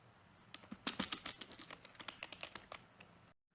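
Rapid keystrokes on a computer keyboard enter a short title for a PowerPoint slide, a quick irregular run of close, crisp clicks and taps that stops abruptly into silence.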